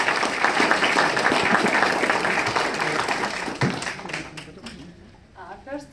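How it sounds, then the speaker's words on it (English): An audience at an indoor art event breaks into applause, a dense wash of clapping that fades out after a few seconds as a voice begins speaking. "Please, Victoria Kovalenchikova, applause."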